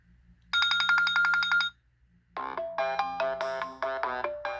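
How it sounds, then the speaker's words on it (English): iPhone ringtone previews playing from the phone's speaker: a bright repeating trill, a short pause, then a melodic chime pattern of rising and falling notes, clear and close. "ringtone"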